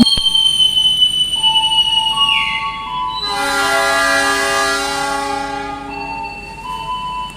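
A train horn sounds loudly for several seconds over the rumble and squeal of the Bengawan passenger train (Kutoarjo–Jakarta) at a station on track one, with high-pitched tones before and after.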